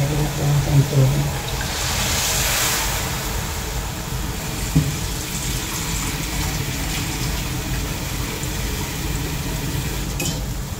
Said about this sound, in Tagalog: Palagyan natin ang tubig.